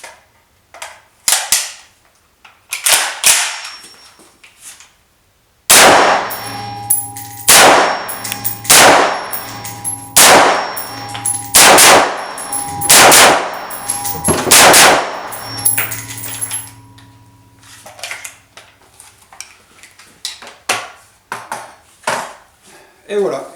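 An FN SCAR L 5.56x45 rifle firing at 25 metres, sharp loud cracks with ringing metallic tails, first a few scattered shots and then a steady sequence of about six evenly spaced rounds, with a little talk between.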